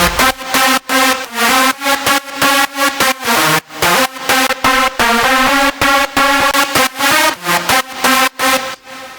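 Loud, bright synthesizer EDM drop lead with sidechain pumping plays a rhythmic dance pattern with sharp gaps between notes, driving and repetitive throughout.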